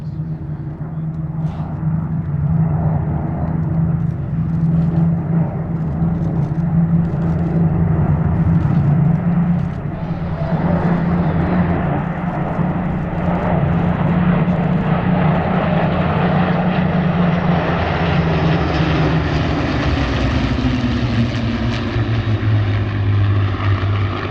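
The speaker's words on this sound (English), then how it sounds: "In from the right hand side, a beautiful 9 ship of Spitfires." Nine Supermarine Spitfires fly past together at Sywell Airshow, their propeller engines making a loud, sustained drone that swells and then drops in pitch as the formation passes overhead and away.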